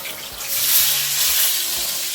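Noodles frying in a pan during a home Christmas-day cook, a steady close sizzle with faint stirring scrapes and no talk.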